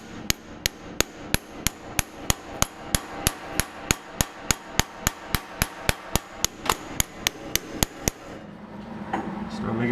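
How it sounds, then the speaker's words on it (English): A sheet metal hammer striking a panel over a dolly while forming ducting for a tube chassis front end: about twenty-five sharp ringing blows at a steady brisk rhythm, close and loud, then stopping. "I'm going to take my sheet metal hammer and a dolly and I'm just going to start forming this in."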